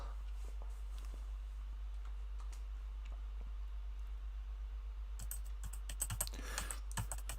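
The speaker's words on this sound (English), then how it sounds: "The only sound in the room was of Daru's fingers on the keys." Fingers typing on a computer keyboard in a quiet room, a faint run of light key taps over a low steady hum, growing into a denser, louder clatter of keystrokes toward the end.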